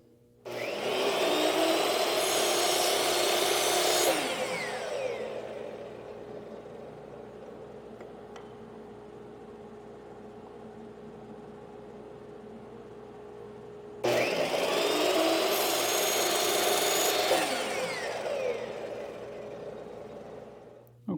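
Power saw cutting 30-degree bevels into the end of a wood strip, two loud bursts of a few seconds each separated by a long pause of quieter motor hum.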